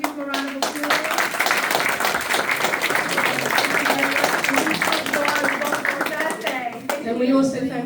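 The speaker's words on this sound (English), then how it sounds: "If we can give them a round of applause." An audience at a general election hustings in Manchester applauds the candidates, clapping steadily throughout, with a voice talking over it near the end.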